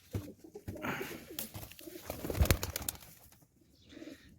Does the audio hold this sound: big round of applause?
no